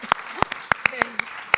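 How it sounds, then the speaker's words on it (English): A handful of separate claps ring out at an irregular pace at a women entrepreneurs panel, sounding like a small, sparse burst of applause, close and fairly loud. "Give everyone a round of applause."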